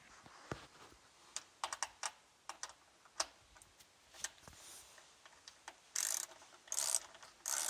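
A ratchet snugs down the battery hold-down bolt on a Dodge Challenger SRT8 with a 6.1L Hemi, giving faint, scattered clicks in short irregular bursts, then a few louder ratcheting runs near the end.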